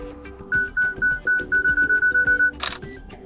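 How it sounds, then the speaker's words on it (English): A Samsung Galaxy Tab A8 camera timer counts down in a row of evenly spaced beeps that speed up, then the shutter fires once in a short burst. "your device will count down from 10, and after that time it will simply take a photo"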